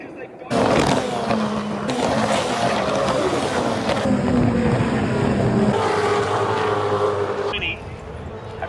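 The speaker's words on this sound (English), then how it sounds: "this is the final lap of the Porsches" Porsche race cars on their final lap at the Bathurst 1000 howl past from a distance, with engine roar rising and falling as they pass near the Esses on the mountain and crowd-like ambience between.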